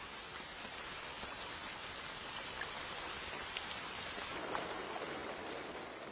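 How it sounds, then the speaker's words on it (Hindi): Rain falling steadily in the rainy season over a swamp, a dense, even patter of drops that stays soft and constant, thinning slightly toward the end. "बारिश का मौसम आ चुका है।"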